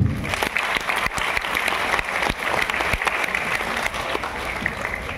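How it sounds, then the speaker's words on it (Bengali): A school annual-function audience at a Mahalaya program applauds steadily as a memento is handed to a student, a dense, continuous wash of many clapping hands with scattered louder claps throughout. "আরেকবার হাততালি"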